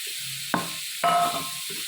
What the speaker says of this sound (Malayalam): ഇത് നന്നായിട്ട് വഴറ്റിയെടുക്കണം മീഡിയം ഫ്ലെയിമിൽ വെച്ചിട്ട് വേണം വഴറ്റിയെടുക്കാൻ